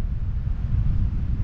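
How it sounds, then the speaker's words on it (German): Wind buffeting a microphone during paragliding, a low constant rumbling roar that stays steady and close for the whole short stretch. "Nur Wind."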